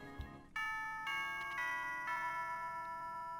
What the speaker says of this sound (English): Oh, that's the school bell.